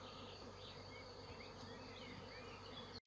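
A swarm of honeybees buzzes steadily around hedges beside an apiary, forming a dense, continuous drone that stays even and close throughout, with no voices over it.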